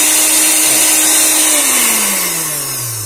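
Kitchen blender's universal motor switched on and running alone, a loud steady high whine with a hum that slowly drops in pitch as it continues.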